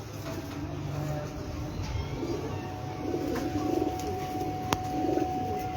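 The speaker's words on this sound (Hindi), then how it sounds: "चैंपियन कबूतर की माँ।" A champion racing pigeon coos softly several times from a rooftop loft in Farooqabad, a low rolling murmur over faint background noise.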